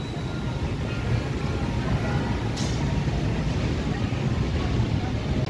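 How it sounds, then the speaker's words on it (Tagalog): Strong outdoor wind roars steadily and close to the microphone for the whole stretch, gusting hard enough to topple a table. It forms a dense, unbroken rumble with no clear voices over it. "Ayan, malakas pa din ang hangin."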